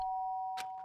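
A doorbell chimes in the Danganronpa video game: a clear, sustained electronic tone rings steadily, with a short, brighter burst partway through, heard alone and fairly close.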